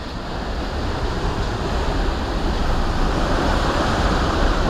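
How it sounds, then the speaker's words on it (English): Strong Hurricane Ian wind in North Port, Florida, roaring as a dense, continuous rush of broadband noise that stays loud and steady throughout, with no voices over it. "Oh, listen to that wind."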